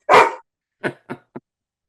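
A dog indoors by a window gives one long bark followed by three shorter, quicker barks, loud and close with nothing else behind them.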